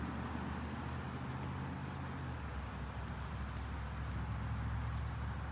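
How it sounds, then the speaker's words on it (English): Morning road traffic near Main Street and Hazen Drive makes a steady, broad rumble and hiss throughout, with a low engine drone, distant and continuous, no voices. "You can hear that morning traffic."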